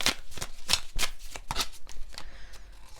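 A deck of tarot cards is shuffled close by in quick, riffling bursts, a rapid run of crisp slaps and flutters that fades into softer rustling.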